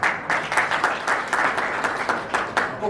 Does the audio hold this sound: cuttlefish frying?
no